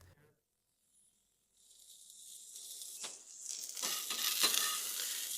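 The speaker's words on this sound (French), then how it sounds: "Je vais déposer ici un peu d'huile, juste de l'huile d'avocat, et quelques oignons. Je vais juste faire frire quelques-uns de ceux-là." Onions frying in avocado oil on a hot griddle, a quiet start giving way to a steady hiss and crackle that grows louder and denser, close by with no talk.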